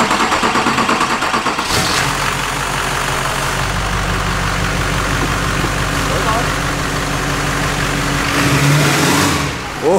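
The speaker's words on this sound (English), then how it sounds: "Let's see what she sounds like. New turbo, 65 millimeter." A Duramax diesel swapped into a K20 truck, fitted with a new 65 mm turbo, runs loud and close, idling roughly before revving up with rising turbo whine; people talk over it.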